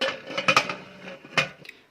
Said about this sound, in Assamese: এতিয়া মই ঢাকনিটো লগাই লম